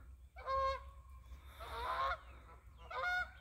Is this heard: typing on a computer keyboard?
no